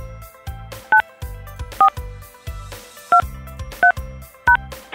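Telephone keypad DTMF tones entering a voicemail passcode: five short, sharp beeps spaced about a second apart over a rhythmic low background pattern, clear and up close.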